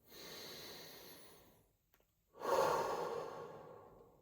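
Slow, close breathing during guided meditation: a long soft exhale fades to near silence, then a fuller breath swells and trails off, with no talking.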